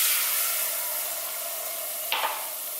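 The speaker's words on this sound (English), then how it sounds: "So I'm going to add my wine." Wine poured into a hot pan for a lemon butter cream sauce: a steady broad sizzle and hiss runs throughout, with a brief louder burst of spattering near the end as the liquid hits.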